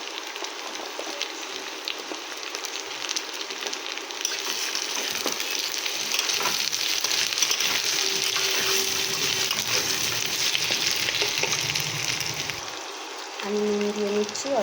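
Cut potatoes fry in a hot pan with a loud, continuous hissing sizzle that swells in the middle, with a few light clinks of utensils toward the end.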